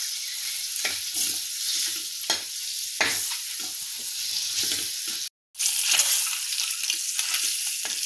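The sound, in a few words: eggs frying in oil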